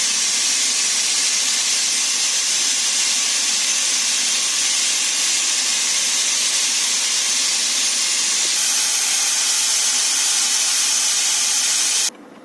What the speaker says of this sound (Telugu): విజిల్స్ వస్తున్నాయి, ఇంకా 2 విజిల్స్ వస్తే ఆఫ్ చేస్తాను